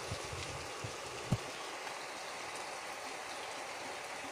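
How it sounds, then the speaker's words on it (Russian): Heavy rain with hail during a squall, a steady broadband hiss of downpour punctuated by a few soft isolated knocks and one sharper thud, heard at a moderate distance. "Потоп и плюс еще такой град."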